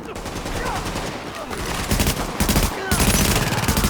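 Rapid automatic gunfire in the video game The Division, loud and close, comes in continuous bursts that grow heavier toward the end.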